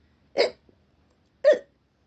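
A narrator's voice imitates a hiccup twice, two short, sharp vocal hics about a second apart, close and clear against silence.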